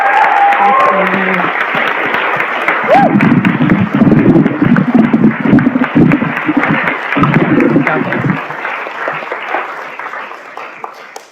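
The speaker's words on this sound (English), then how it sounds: "Can we have another round of applause for the poets, especially Joelle?" Audience applause for the poets at an anthology launch reading, sustained crowd clapping with cheers and voices mixed in, loud and close, tapering off toward the end.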